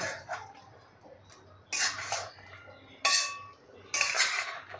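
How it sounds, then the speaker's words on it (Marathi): Chicken masala for a spicy rassa curry being mixed in a pan, with three bursts of scraping, clattering spoon strokes against the metal over a quiet background, close and without talk. "आता हे सर्व आपण मिक्स करून घेऊ"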